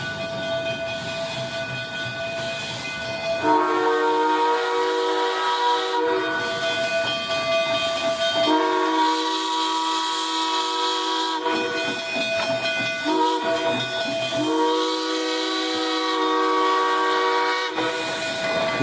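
Whistles of two double-headed Colorado narrow-gauge steam locomotives blow in several long, loud blasts, the two differently pitched whistles overlapping and alternating over a hissing rumble.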